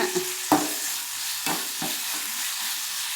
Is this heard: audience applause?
no